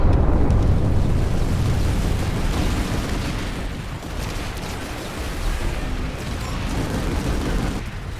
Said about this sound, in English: The remaining NC forces at the Sunder were desolated by an orbital strike, but so were we.